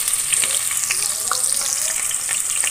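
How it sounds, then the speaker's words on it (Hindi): Chopped onions fry in hot oil in a pan for a chicken and chickpea curry, giving a steady, loud, close sizzle with crackling pops throughout. "ये देखिए बहुत अच्छी सी ज़बरदस्त किस्म की फ्राई हो रही है"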